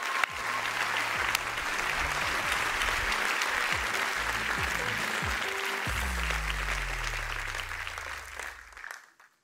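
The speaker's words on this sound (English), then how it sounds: "You deserve a big applause." An audience at the BMW keynote at CES 2023 applauds in a loud, dense, sustained wave of clapping that carries on for several seconds before tapering off at the end.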